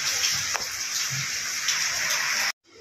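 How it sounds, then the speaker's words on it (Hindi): Heavy rain pours down in a steady, dense hiss close by for over two seconds, then cuts off abruptly into near silence. "लेकिन अभी भी बहुत तेज़ बारिश हो रही है"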